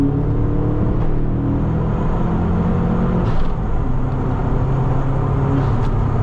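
Steady rushing air noise from the window seals inside a moving 260whp Subaru Forester XT, blended with a low engine drone and road hum, continuous and fairly loud throughout.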